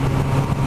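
A Honda CB1000R motorcycle engine idling close by, with a steady low rumble that stays even and unbroken throughout.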